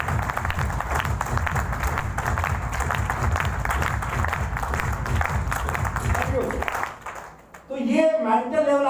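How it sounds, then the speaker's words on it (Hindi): Audience applause at a training session, loud dense clapping from a crowd that runs steadily for about seven seconds and then stops abruptly, followed by a voice speaking. "उनके ऊपर जोरदार तालियां होंगी।"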